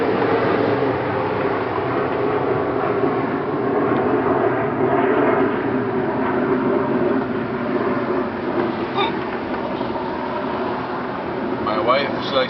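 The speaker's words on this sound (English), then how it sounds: "I live on a fucking busy street, so I'm sorry that it's loud" Busy street traffic, a steady loud rumble of passing vehicles with continuous engine and tyre noise throughout, close and unbroken.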